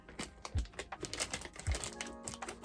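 A bagged LuvMe sugar plum colored bob wig with bangs is cut open: crisp plastic clicks and crinkles with a couple of soft thumps, close up and without talk.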